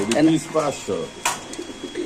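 Pigeons at a Bangladeshi market stall selling beauty and racer breeds coo and flutter near at hand, with a sharp burst of noise mid-way and people talking throughout.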